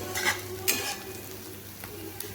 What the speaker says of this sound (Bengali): পোস্তদানাগুলো দিয়ে এইভাবে একটু ভালোভাবে মিশিয়ে নেব এইভাবে এইভাবে নেড়ে নিচ্ছি একটুক্ষণ